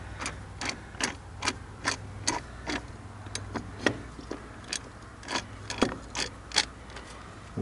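A geared reducer head turning a nut ratchets in a steady series of sharp clicks, roughly two per second, close and clear over a faint low hum.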